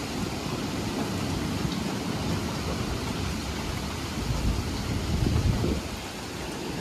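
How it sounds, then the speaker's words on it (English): Strong wind gusts roar through a December derecho thunderstorm in Iowa, with steady rain hissing throughout and the gust swelling louder near the end before easing. "as a big gust comes through again"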